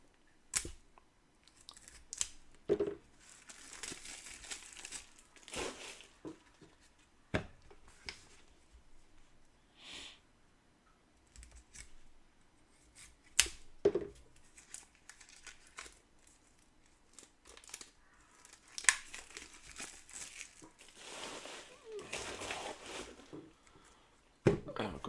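Plastic wrap and cardboard packaging of a Marvel United Multiverse board game crinkle, tear and rustle while being opened, with intermittent snaps and rips nearby and occasional faint speech.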